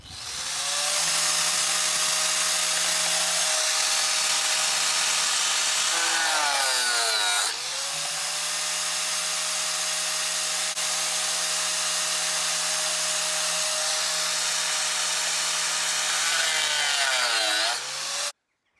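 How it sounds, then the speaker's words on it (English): In a shed, a grinder drones steadily for the whole stretch. Its loud motor whine sags in pitch twice under load, then recovers. "switch the grinder on and annoy the neighbours for an hour"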